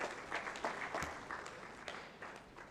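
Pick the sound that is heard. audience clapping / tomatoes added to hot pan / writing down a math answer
audience clapping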